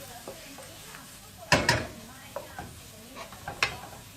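Onion softens and browns in a pan as the base for a cauliflower risotto, a quiet low sizzle broken by a few sharp utensil scrapes and taps against the pan.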